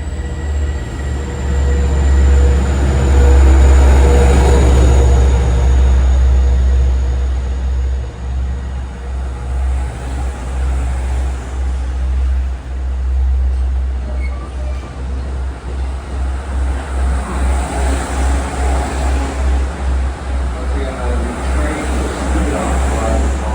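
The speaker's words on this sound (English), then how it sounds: "you had a chance to hear what a busy place this is and see how busy it is" Trains rumble through the busy LIRR Jamaica station at evening rush hour, a loud low drone that swells early and then settles into a rhythmic clatter of wheels, with a faint whine and distant station noise around it.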